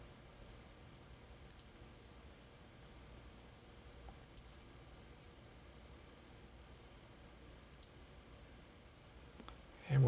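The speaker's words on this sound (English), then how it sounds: "by clicking the first one and then holding Shift and clicking the last one" Computer mouse clicks while editing in Final Cut Pro X: a handful of faint, sparse single clicks spaced a second or two apart over steady low hiss, with a louder bump at the very end.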